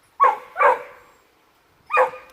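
Duke, a year-and-a-half-old dog, gives three sharp, loud barks close by. Two come in quick succession, then a pause before the third.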